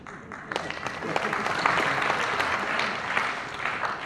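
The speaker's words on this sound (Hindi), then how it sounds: "इन लोगों के लिए ताली बजाते रहें" Audience applause in an auditorium at a job fair opening, sustained clapping from a crowd that swells after a moment and carries steadily to the end, moderately loud.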